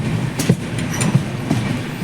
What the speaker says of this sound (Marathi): आता लगेच रत्नागिरीवरून ट्रेन सुटलेली आहे